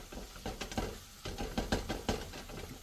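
Vegetables sauté quietly in a pan as a utensil stirs them, giving soft irregular scrapes and taps over a faint sizzle, close but low in level.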